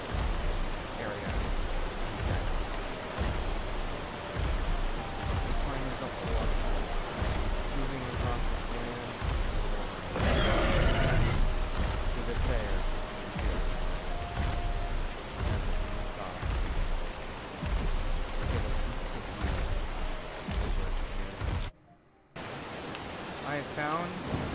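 Heavy, intense rain pours in the survival game ARK, a steady hiss of rainfall with a swell of downpour midway and a brief dropout near the end, with no speech heard.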